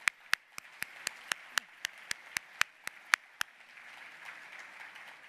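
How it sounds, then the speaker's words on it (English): Sharp, evenly spaced claps ring out one after another at an outdoor ribbon-cutting and grand opening ceremony in front of a spy museum, then give way to a softer, diffuse patter of a larger crowd clapping. "Give them all a round of applause"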